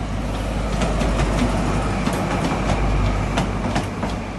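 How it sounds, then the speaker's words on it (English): A CrossCountry Class 43 train bound for Plymouth at Exeter St David's station, producing a loud, steady rumble and hum with faint rhythmic clatter throughout and no talk. "class 43 cross country service to Plymouth"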